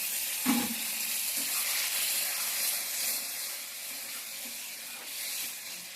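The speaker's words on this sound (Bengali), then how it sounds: "এবার আমি হালকা পরিমাণ মতো হালকা জল দিয়ে দেবো বেশি দেবো না" Water is poured into a pot of hilsa curry with ash gourd as it cooks, giving a steady close hiss and rush of liquid over a faint sizzle, with no voices.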